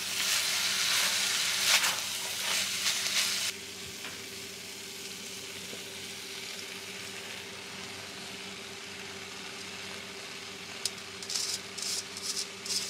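Chicken keema with chopped tomato frying in a pan, a steady broadband sizzle that is loud for the first few seconds, then settles to a quieter even crackle, with a few stirring scrapes near the end.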